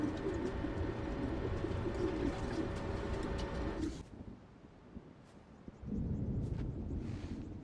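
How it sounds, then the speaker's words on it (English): Pigeons cooing in a park in the Spider-Man Miles Morales video game, a dense chorus of soft, throaty coos that drops away briefly before the flock's murmuring returns, close and steady. "The place was swarming with pigeons."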